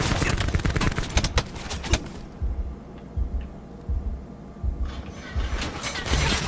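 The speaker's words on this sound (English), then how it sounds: "Someone's shooting at me." Gunfire in Call of Duty Black Ops 4 Blackout: rapid, loud shots at first, then a quieter stretch of scattered distant pops and thuds.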